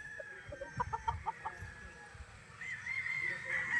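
A 5K Sweater bloodline gamefowl rooster on a farm gives a quick run of clucks, then a long crow, fairly close against faint outdoor background.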